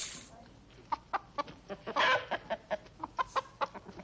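Chickens cluck in a busy run of short, sharp calls, close and fairly loud, with a brief louder squawk in the middle.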